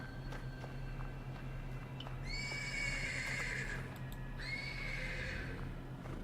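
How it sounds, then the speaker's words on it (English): In a video game stable, a horse gives two drawn-out whinnies over a steady low hum of ambience, faint and somewhat distant, with light clip-clop ticks scattered around them. "The persistent neighing of a horse can be heard from the stables."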